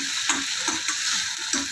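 Tomatoes and raw chickpeas fry in a hot pan, giving a steady bright sizzle broken by soft scraping taps from stirring about once every half second.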